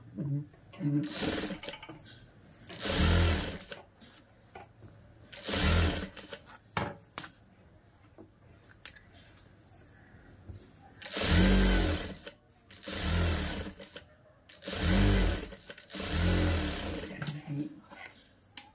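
A sewing machine runs in bursts, stitching a long child's frock made from an old saree, its whirring runs repeating several times across the clip at close range.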